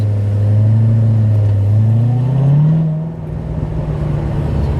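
A 700-horsepower Corvette Z06 engine revs up steadily with a rising drone while driving, then eases off into a lower steady rumble, loud and close, no voices.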